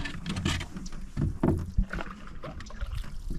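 A canoe being paddled in Southeast Alaska, with soft irregular splashes and water swishes from the paddle strokes, close and fairly quiet, plus faint wooden knocks.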